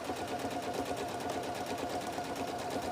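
A sewing machine runs a continuous stitch line along a tote bag, its needle chattering in a rapid, even rhythm. It sounds close but fairly quiet, holding steady for a few seconds with no talk.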